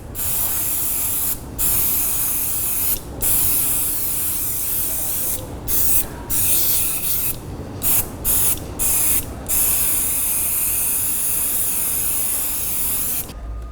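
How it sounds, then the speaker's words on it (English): Aerosol tire shine sprayed onto a clean car tire in repeated hissing bursts, each lasting a second or two and separated by brief pauses, close and fairly loud with no talking. "You simply shake it up, spray it onto a clean tire"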